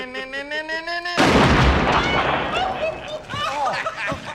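Shotgun blast from the film RoboCop, a sudden loud boom with a long rumbling tail, following a sustained tone and overlaid by shouting voices and scattered cries.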